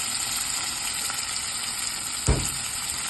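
Onions and tomatoes fry in a pan for a spicy curry, a steady close sizzle with a faint hiss throughout and one brief louder spatter near the end.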